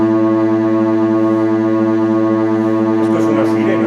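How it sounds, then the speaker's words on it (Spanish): Synthesized siren tone built from three simultaneous pitches at 113, 257 and 331 Hz, a loud steady droning chord held unchanging, with a brief voice entering near the end. "Esto es una sirena, técnicamente. Son 113 hercios, 257 hercios y 331 hercios a la vez."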